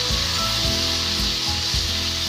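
Potatoes with cumin and green chili frying in a pan, a loud close hiss overlaid by rhythmic scraping strokes as the pieces are stirred, with no voices.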